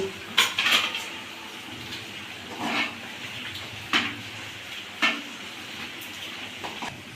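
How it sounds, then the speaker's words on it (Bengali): A spoon scrapes and clanks against a pot while spiced khichuri with sprinkled masala is stirred, giving four or five sharp metallic knocks spaced a second or so apart over a faint background hiss. "আমি মশলাটা এর ওপর দিয়ে আমি ছড়িয়ে দিলাম, আমি ভালো করে ঘেঁটে দেবো"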